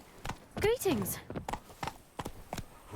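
Roach the horse gallops along an off-road path in The Witcher 3, with hoofbeats thudding in a steady, evenly spaced rhythm. A voice speaks briefly over the first beats.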